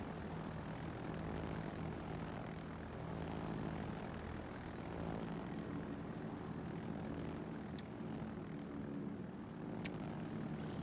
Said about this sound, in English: I've still got plenty of skip bombers left.